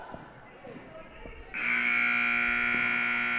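A loud, steady electronic buzzer blares at the end of a quarter in a girls high school basketball game, cutting in abruptly after gym noise and holding on under a commentator's voice.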